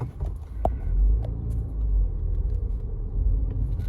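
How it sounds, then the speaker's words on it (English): A Mini Cooper S pulls out onto the road, heard as a continuous low engine and road rumble from inside the car, steady throughout with a few faint clicks above it. "So I'm just going to pull out onto the road here."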